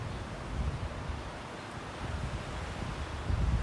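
Wind buffets the microphone in a steady, rough low rumble in the Derbyshire countryside, gusting a little louder at moments, with no voices.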